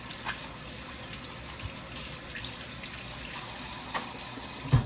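Water runs steadily from a kitchen sink tap as gloved hands are washed, a quiet continuous splash with small rustles and a brief knock near the end.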